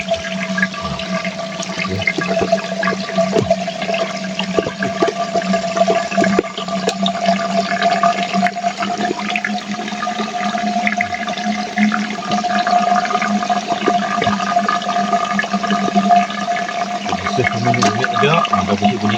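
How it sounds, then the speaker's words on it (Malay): Water rushing through a gravity-fed pipe in a garden plantation after a blockage is cleared, a steady hissing flow with a constant tonal hum and occasional gurgles, loud and close, with faint voices nearby. "Bunyi aja, ada bunyi air."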